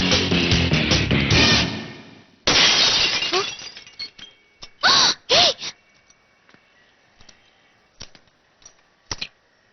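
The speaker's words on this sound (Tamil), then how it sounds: "இவன் தான் நம்ம கார் கண்ணாடிய கல் எடுத்து உடைச்சான்." A car window is smashed with a stone, a loud crash of shattering glass followed by tinkling shards and scattered clinks trailing off, with a few sharp gasps and bursts in between.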